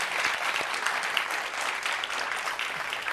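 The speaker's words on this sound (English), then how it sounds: "That deserves a little bit of applause." Studio audience applause at the start of a high school quiz show broadcast, a steady dense patter of many hands clapping throughout at moderate level, with no talk.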